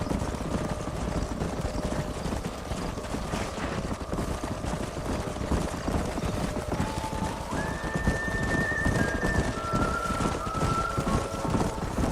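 Horses in the Red Dead Redemption video game plod along a canyon in a steady clip-clop under a continuous wash of ambient game sound and faint music tones, with occasional whinnies mixed in.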